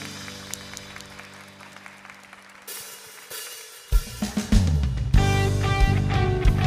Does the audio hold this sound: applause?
yes